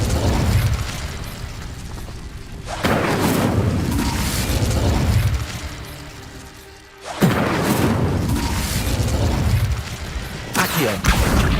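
Incendio fire spell cast in the Hogwarts Legacy video game, sounding as two loud fiery bursts that flare up and roar for several seconds each.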